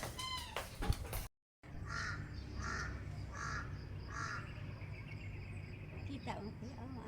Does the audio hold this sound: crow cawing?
yes